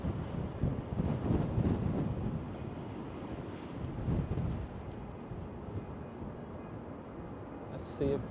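Gusty wind buffets a microphone at Schiphol airport in Amsterdam, a rough, rumbling roar that swells and eases while someone talks over it throughout.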